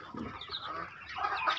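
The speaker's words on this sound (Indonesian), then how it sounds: "mentok-mentok jantan" Male muscovy ducks on a breeding farm make soft, close hissing and clucking calls, a brief flurry of low bird noises at modest loudness with no talking.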